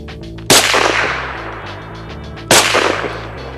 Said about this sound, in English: This is a sniper rifle.